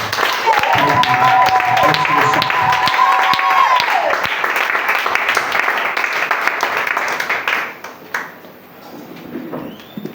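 A church congregation applauds and cheers loudly and steadily, with a whistled note early on, before the clapping thins and fades after about eight seconds.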